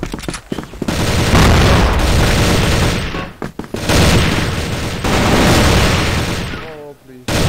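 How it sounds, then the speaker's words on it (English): A flash grenade goes off in a Counter-Strike match, a loud, sharp bang that blends with heavy gunfire and explosions throughout, with dense game noise and brief dips between bursts. "Flash grenade."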